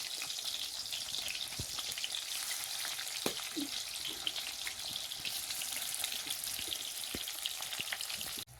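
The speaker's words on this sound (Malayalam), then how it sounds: "ഇവിടെ കയ്പ ഫ്രൈ ചെയ്യാണ്" Bitter gourd fries in hot oil with a soft, even sizzle, broken by occasional faint clicks and taps of a utensil, heard close with no talk.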